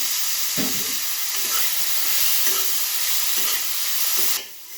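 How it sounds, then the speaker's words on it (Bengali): Flattened rice (chire) is stirred in a hot pan under a constant sizzle, with repeated soft scraping strokes from a spatula. The sound cuts off abruptly near the end. "এবার আমি চিড়েটা দিয়ে খানিকটা নাড়াচাড়া করে নেবো ভালো করে"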